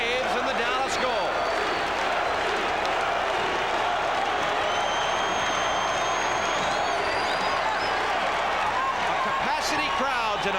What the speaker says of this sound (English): They are standing at Reunion Arena applauding Dallas Stars goaltender Darcy Wakaluk.